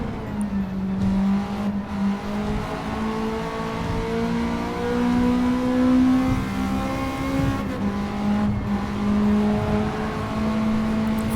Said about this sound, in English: Semi-racing exhaust sounds better.